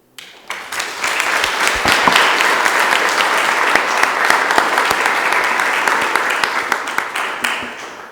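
Full audience applause at a business conference swells quickly and holds as a dense, steady wash of many hands clapping, fairly loud and close, easing slightly near the end.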